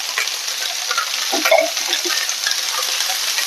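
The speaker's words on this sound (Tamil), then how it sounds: "மஞ்சள் தூள் போட்டுட்டு வதக்கிக்கலாம்." Cauliflower sautéed with salt and turmeric powder sizzles steadily in a pan, with a few scraping stirs of a spoon partway through, close and continuous throughout.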